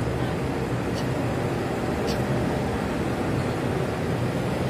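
An ALS bus engine, the LS220, warming up, a steady, close, continuous rumble and hiss that holds level without revving.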